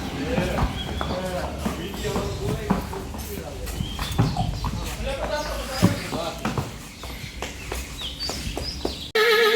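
A stallion at a stud farm whinnies and stamps with clip-clopping hooves while several people talk loudly nearby and outdoor noise fills the background.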